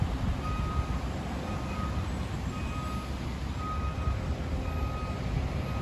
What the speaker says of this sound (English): You see the trucks over here laying down asphalt